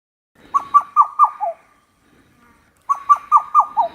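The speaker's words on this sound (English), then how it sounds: "the Koel's unmistakable rising call pierces the morning air" Koel cuckoo calling in the morning, two bursts of five clear rising whistled notes in quick succession with a short silent pause between, loud and close with no other sounds.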